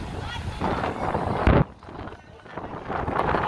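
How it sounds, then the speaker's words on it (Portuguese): Gusty wind buffets the microphone in rough, rumbling waves at Praia de Iracema beach in Fortaleza, Brazil, with a sharp thump midway and the roar rising again toward the end. "tá ventando bastante"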